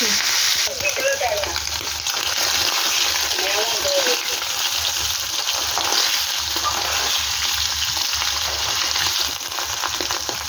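Paneer pieces fry in hot oil in a pan with a loud, continuous sizzle and a few faint clinks, close up throughout. A voice speaks briefly under the sizzle near the start.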